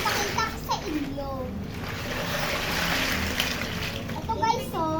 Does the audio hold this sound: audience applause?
no